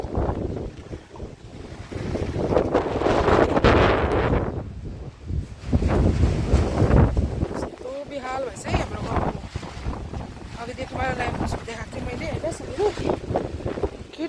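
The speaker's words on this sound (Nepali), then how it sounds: "कस्तो त हावा चल्यो त साथीहरू हो आज यति त हावा चलेको" Strong storm wind roars and buffets the microphone in heavy gusts in Kurseong, with a person talking over the rushing air throughout.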